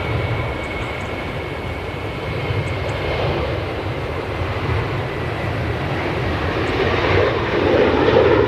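A Boeing 737 airliner taxiing at Manchester Airport, a steady loud jet engine roar with a constant whine, heard outdoors at moderate distance and holding even throughout.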